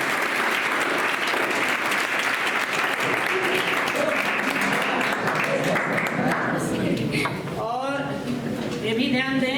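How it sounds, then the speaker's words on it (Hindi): A crowd claps loudly and steadily for several seconds at a 10th-grade results celebration ceremony in India, the applause fading near the end as a voice begins speaking. "इनके नाम पर थोड़ी तालियां हो जाए"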